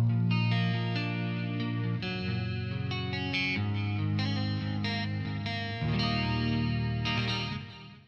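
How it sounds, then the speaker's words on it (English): Clean electric guitar tone from an AX8 preset using a Mesa Mark IV Clean model, close and full with shimmering chorus-like sheen, ringing chords and arpeggiated notes played alone. "this is the only time I used a clean sound on the Super Typhoon"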